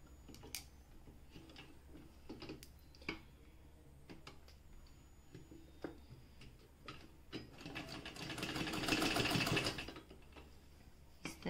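A sewing machine stitching a fabric placket, quiet ticking and clicking at first, then a louder burst of rapid stitching toward the end.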